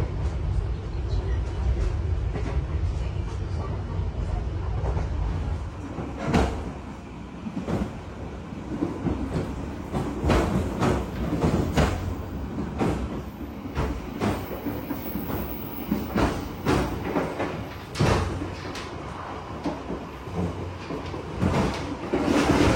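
Brawijaya Executive passenger train rolling on rails as it pulls into Wlingi station on the Malang–Blitar line, a loud steady rumble broken by repeated wheel clacks and knocks.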